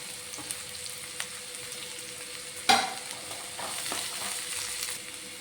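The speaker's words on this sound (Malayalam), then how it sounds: "ഇനി നമുക്കതിലേക്ക് സവോള ചെറുതായിട്ട് കട്ട് ചെയ്തതാണ് ചേർത്ത് അതും കൂടെ ചേർത്ത് കൊടുക്കാം" Chopped onions sizzle steadily in a hot pan for a soya masala curry, a continuous bright frying hiss with occasional stirring scrapes and one sharper clatter midway, no voices.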